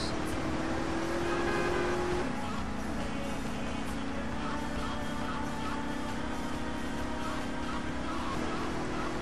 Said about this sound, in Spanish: Por suerte ese auto hace mucho ruido.